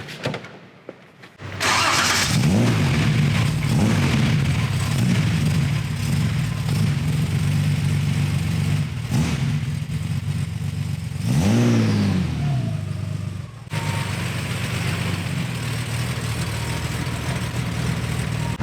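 A silver 1972 Holden Torana LJ GTR-XU1 fires up, then its engine idles and revs loudly through a drive, with throttle blips and a deeper surge of acceleration midway and a steady running drone throughout.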